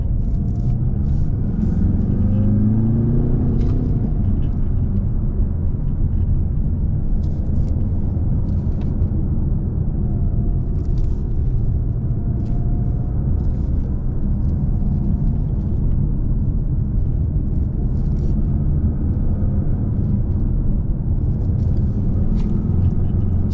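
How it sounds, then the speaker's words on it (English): A 2018 Jaguar F-Type coupe drives Glendora Mountain Road in California with the windows down, giving a steady low engine rumble and broad road and wind noise throughout, close and continuous, with no talking. "just drive and let you enjoy the sights and sounds of Glendora Mountain Road here in California, and the 2018 Jaguar F-Type"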